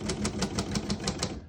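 Quick typing on a 1938 Royal O Model portable typewriter: about eight crisp, evenly spaced key strikes in a brisk rhythm, close and clear with no talking.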